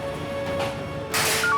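A telephone sounds in a hotel with short bright electronic tones near the end, over a steady background hum. A burst of broadband noise comes just before it. No one speaks.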